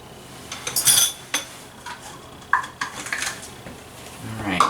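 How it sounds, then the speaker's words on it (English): A utensil clinks and scrapes against a bowl while a batter mixture is stirred, with irregular clatter and knocks up close amid some background room noise. "I'm just going to give that a little stir to get it going"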